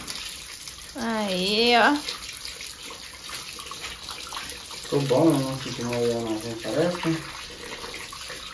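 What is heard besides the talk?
water running from a newly turned-on tap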